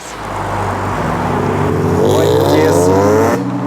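An Audi S4 accelerating away, a loud engine drone rising steadily in pitch as it pulls off and then cutting back, heard close with a voice speaking over it.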